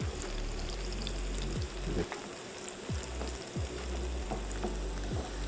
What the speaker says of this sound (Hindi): कीमा हमारा फ्राई हो रहा है, प्याज का कलर चेंज होगा